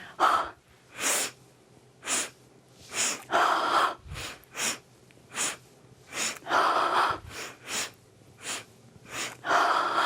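Breath of joy exercise in chair yoga: rhythmic sharp nasal inhales and forceful exhales repeating in quick sets, close and clear with no talking.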